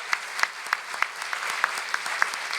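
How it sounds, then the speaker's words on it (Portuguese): Academic audience applauding Ambassador Celso Amorim at a lecture, a short burst of close, crisp, regular claps in a quick even rhythm. "uma salva de palmas para o melhor chanceler do mundo"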